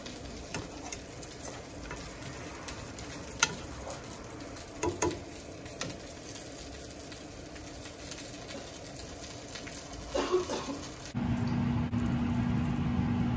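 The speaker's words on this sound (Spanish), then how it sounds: "Miren qué deliciosos ya están hirviendo" Chorizo with egg, beans and steak bubbles and sizzles softly in a pan, with faint crackles and occasional clinks, then a louder steady hiss takes over near the end.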